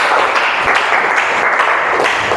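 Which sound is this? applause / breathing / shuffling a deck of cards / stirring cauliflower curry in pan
applause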